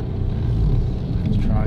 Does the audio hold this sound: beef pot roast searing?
no